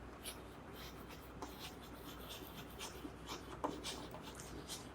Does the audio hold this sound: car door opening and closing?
no